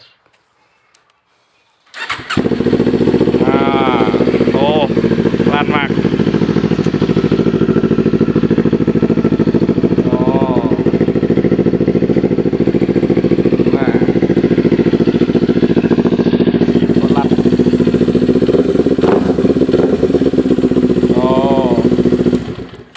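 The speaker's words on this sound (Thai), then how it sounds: "เดี๋ยวมาสตาร์ทให้ฟังนะครับ อันนี้ของ Ninja 400 เนี่ย เขาจะได้ท่อ SC นะครับ" A Kawasaki Ninja 400 motorcycle with an aftermarket SC exhaust fires up and idles loudly and steadily with a deep, throaty exhaust rumble, occasional blips, and someone speaking briefly over it.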